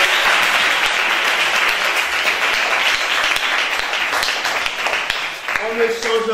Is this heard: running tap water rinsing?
no